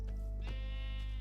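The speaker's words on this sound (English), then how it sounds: "I think I've seen a sheep around here somewhere." A sheep in the video game Starforges Star Kingdom gives one clear, drawn-out bleat, close and fairly loud over a steady low hum.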